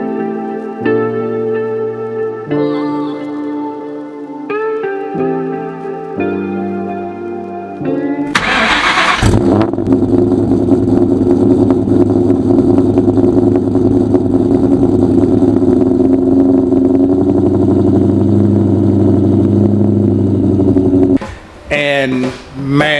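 A car engine starts up after some musical notes, then holds a loud, steady running roar for about twelve seconds before briefly cutting and catching again.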